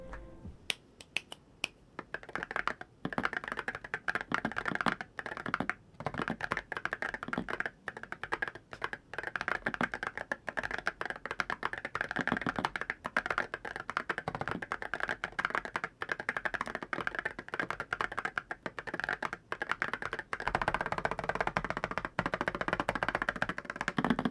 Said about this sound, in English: here's a little sound test with the switches and the keycaps on